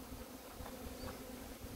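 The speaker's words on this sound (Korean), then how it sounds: "지금 말벌 포살기인데" Giant hornets caught inside a hornet trap buzz in a steady, continuous drone, heard close up and fairly quiet, with no voices over it.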